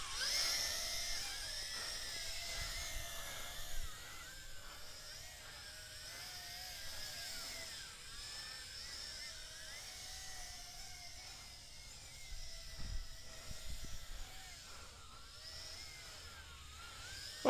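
A Tarantula X6 quadcopter flies with a steady, high-pitched whirring buzz from its rotors that wavers as it moves, holding at moderate loudness throughout with no talk.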